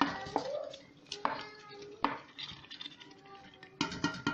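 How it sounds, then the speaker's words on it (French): A spoon clatters and scrapes in a pot as a chorba frik soup mixture is stirred over very high heat, giving several sharp knocks among softer stirring scrapes, close and moderately loud. "je vais la mélanger. Voilà, je mélange déjà ça"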